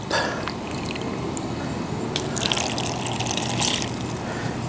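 Steady trickling and splashing of water poured into a measuring cup, continuous and close, with a brighter burst of splashing partway through.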